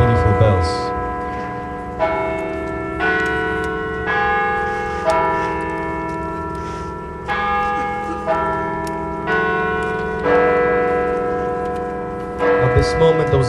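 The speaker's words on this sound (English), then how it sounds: "These are beautiful bells." Church bells peal in a steady, loud sequence of overlapping rich tolls, each strike decaying into a long ringing hum, outdoors at a memorial gathering for the Smolensk crash victims in Ottawa.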